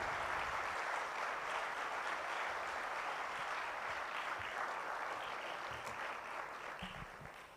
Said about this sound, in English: A rousing round of applause for our chief guest